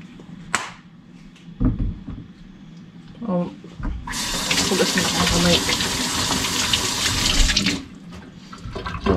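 Tap water runs steadily for several seconds as hands are washed while chicken adobo with pineapple is being prepared, a broad gushing rush between brief clatters, with talk before and after.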